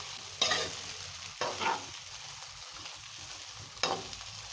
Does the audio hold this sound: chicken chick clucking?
no